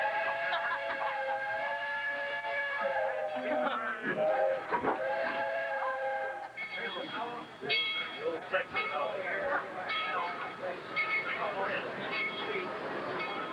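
A train rumbles along with shrill, sustained whistle-like squeals and screeches rising over the steady rolling noise.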